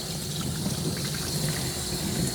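A steady spray of water hisses over a Coton de Tulear dog as it is soaked before grooming, a continuous close rushing patter with no talk.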